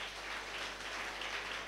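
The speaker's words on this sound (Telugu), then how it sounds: "సంతోషంగా ఉన్నవాళ్ళు చప్పట్లు కొట్టండి" An audience claps together at a Christian cross-meditation gathering in Amalapuram, producing a steady, even patter of hands that is fairly faint and continuous throughout.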